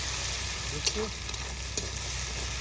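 Onions fry with salt in plenty of oil, a steady close sizzle with a couple of brief stirring knocks and a faint voice in the background.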